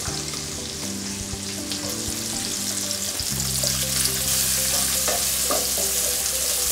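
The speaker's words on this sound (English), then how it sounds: "Now we're gonna add the onion. Just move it over to the pan." Onion sizzles and fries steadily in a hot pan for bacon-and-pea pappardelle, a constant close crackle with no talk.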